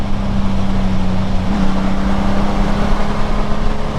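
A Honda Gold Wing GL1800 sport touring motorcycle runs on a dyno, its engine giving a steady, loud, continuous drone with a sustained low tone that holds throughout, with no talking.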